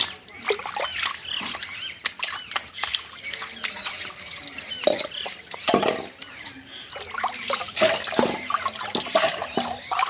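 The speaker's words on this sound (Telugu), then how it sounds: "నేను రోలు కడుగుతున్నాను రోల్ మొత్తం రెండు సార్లు నీట్గా కడిగేస్తున్నానండి" Water splashing and trickling as a stone grinding mortar (rolu) is rinsed, with irregular close splashes and scraping throughout, no speech over it.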